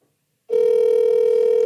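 A telephone call's ringing tone starts abruptly after a short silence and holds as a loud, steady electronic tone, heard alone.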